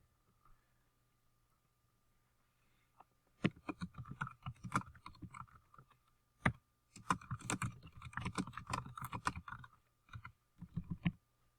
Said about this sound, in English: I can pretty much type anything I want in this assignment.